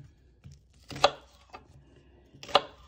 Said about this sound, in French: les carottes, je les coupe en gros morceaux